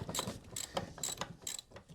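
A ratchet with a 9/16 socket works on the drag link of a Craftsman/Husqvarna riding mower. Four quick bursts of close clicking pawl sound come in a steady rhythm, with no talking.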